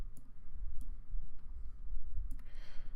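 Transformers trading cards being flipped over on a table, a few soft snappy clicks and one brief papery swish near the end, close and fairly quiet.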